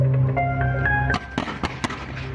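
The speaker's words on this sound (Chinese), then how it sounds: "五一维港海上烟火表演星期三晚在尖东对开海面举行" Fireworks burst over Hong Kong's Victoria Harbour during the May Day harbour show off Tsim Sha Tsui East, a quick series of sharp, loud bangs and crackles following a steadier tonal rumble.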